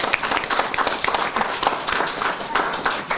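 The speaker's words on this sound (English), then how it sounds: "let's give a nice round of applause for State Senator Andrew Stewart-Cousins" Audience applause for State Senator Andrew Stewart-Cousins at a Yonkers community kids' closet event, steady mixed clapping from a small crowd across the whole stretch with no talk.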